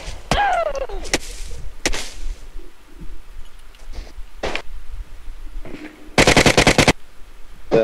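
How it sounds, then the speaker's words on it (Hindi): M4 rifle fire in the video game PUBG Mobile comes in short separate bursts and single cracks, loud and near, ending with a dense rapid burst of shots, with quiet stretches between. "भाई ये क्या M4 चला रहा है ना"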